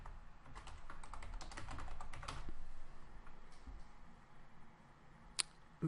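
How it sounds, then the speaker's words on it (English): Short bursts of keypresses on a computer keyboard while entering a plugin search term, quick irregular taps clustered in the first half, then sparse clicks and a couple of sharp louder clacks near the end. "in the search box, if you type in Health Check"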